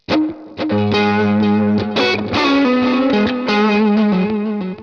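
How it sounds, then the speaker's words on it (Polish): An electric guitar plays through a Headrush multi-effects unit with reverb and some distortion, producing sustained chords and melodic notes with a rich, chorused tail that fills the space at strong volume, with no voice present. "już słyszycie, że reverb od razu zrobił się automatycznie głośniej"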